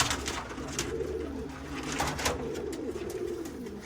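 An agitated pigeon coos steadily and close, a low throaty rumbling call repeated over a faint background hiss.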